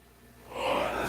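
A person's yawn swells from quiet into a loud, breathy open-mouthed exhale lasting about half a second, close and alone.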